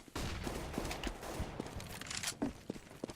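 Counter-Strike gunfire: several sharp single shots and short bursts spaced irregularly, moderately close, with footsteps scuffing between them.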